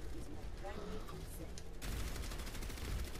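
Orisa's gun firing in the Overwatch video game: a dense stream of rapid gunfire under game noise, growing louder and fuller partway through as the shooting continues.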